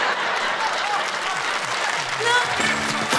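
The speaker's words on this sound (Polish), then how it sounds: "O, klaski!" An audience at a comedy show claps together, a steady, dense burst of applause with voices and laughter mixed underneath throughout.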